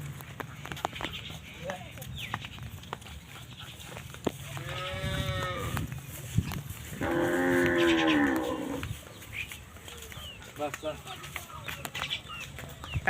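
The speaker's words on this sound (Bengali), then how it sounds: "স্বপন ভাইরা কি জাতের গাভি নিয়ে আসছে এটা হলস্টেন ফিজিয়ান" A big-bodied black-and-white Holstein Friesian cow at a cattle sale lets out two long, deep moos, the second louder and steadier, amid scattered voices and background farm noise.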